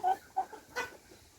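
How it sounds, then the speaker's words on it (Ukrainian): A white hen gives a few soft, brief clucks close by on a farm, three short calls spread over about a second in otherwise quiet surroundings. "Курочка біла."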